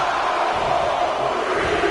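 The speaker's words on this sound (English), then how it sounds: "The crowd is counting it down" Arena crowd in the WWE 2K24 wrestling video game, a dense, loud roar of many voices chanting together in unison, sustained throughout.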